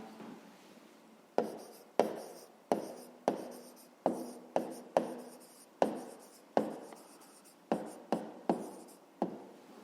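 Pen or chalk writing out a math answer in a series of quick strokes and taps, a rhythmic scratching with sharp onsets about once a second, close and quiet, with no speech.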